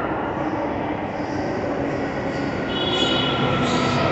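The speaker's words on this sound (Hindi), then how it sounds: "और वो आई मेट्रो" A Delhi Metro train rumbles steadily close by as it arrives, a broad continuous roar with faint high squeals from the wheels, no talking.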